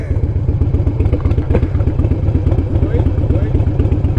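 A video game motorcycle engine runs close and loud, with a steady, fast, even pulse of firing beats throughout, and a voice talks over it.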